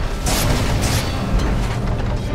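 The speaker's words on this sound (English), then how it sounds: "Fire's top barracks have fallen." A barracks building is destroyed in the Dota video game, producing a loud, rumbling explosion with heavy low-end boom and bright crackling bursts that sustain throughout without any talk.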